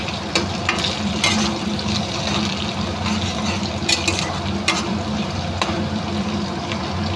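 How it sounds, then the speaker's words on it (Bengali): Green chilies fry in oil for egg tarka, a steady close sizzle punctuated by periodic spatula scrapes and taps against the pan. "কাঁচা লঙ্কাটা দিয়ে দেব। একটু নাড়াচাড়া করব।"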